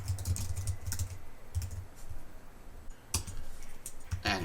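Typing a header on a computer keyboard: steady, close clicking of keys in quick bursts with short pauses, fairly quiet against a low background hum.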